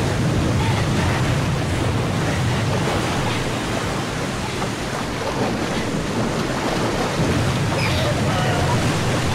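Ocean waves from the video game Shenmue II wash and surge continuously in a broad, steady roar, with a faint hiss of spray and wind layered over the surf.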